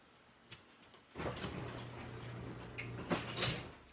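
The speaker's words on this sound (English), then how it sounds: "Let me close the garage door." A garage door rolls shut with a sustained rumbling slide and a low mechanical drone, followed by a few rattling knocks and clicks near the end, fairly close.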